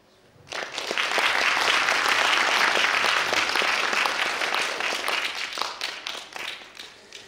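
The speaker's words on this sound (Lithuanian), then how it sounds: "dar kartelį plojimai Ugniai" An audience at a youth sung-poetry festival applauds a young singer, dense clapping that swells quickly, holds strong and then thins out and fades toward the end.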